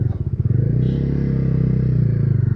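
A Bajaj Dominar 250 BS6 motorcycle engine pulses close and loud on a small road during a tight turning manoeuvre, a steady low throbbing with slight rise in revs.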